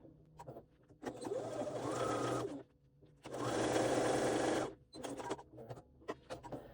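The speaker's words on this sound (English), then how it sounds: "when I baste, I still use that stitch in the ditch foot so that I can get that really small seam allowance with a really big stitch length" Sewing machine with a stitch-in-the-ditch foot basting a small seam allowance at a long stitch length, running in two steady bursts of about one and a half seconds each, separated by short pauses and handling clicks.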